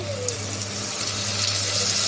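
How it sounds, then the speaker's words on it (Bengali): Water splashes into a hot pan of frying onion and shrimp to cook down spices, a continuous close rushing pour with a faint hiss underneath. "পানি দিয়ে দিলাম মশলা কষাবার জন্য"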